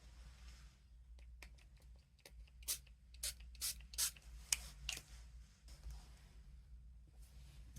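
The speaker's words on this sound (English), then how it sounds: "Just give it a couple of sprays and then move into the Claret." Colored ink is sprayed from a small pump bottle onto a paper tag, a series of short, sharp hissing bursts in irregular quick succession, close and fairly quiet, with no talk.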